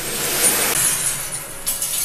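A bright, hissing crackle of glass giving way, steady at first and then tapering off with a few small clinks near the end, close by.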